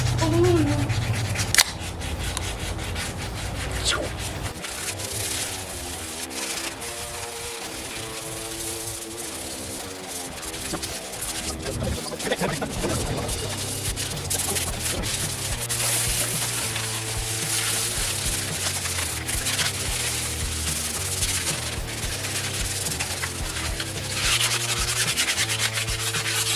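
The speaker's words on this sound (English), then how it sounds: "Just gonna get the whole thing sanded, man." Steady hand sanding of a car frame with 220 grit flex pads, a continuous close rasping rub with rhythmic back-and-forth strokes that runs for nearly half a minute, while faint talk sits underneath.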